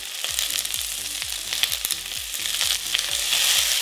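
Onions sauté with jalapenos, black peppercorns and kosher salt in a pan, a loud, close, continuous sizzle and crackle. A rapid train of rattling scrapes runs under the frying throughout.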